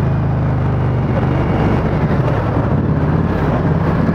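An Indian Scout Bobber Twenty motorcycle with a DOHC engine braking on the road, giving a steady, loud, rumbling engine drone mixed with wind rush throughout.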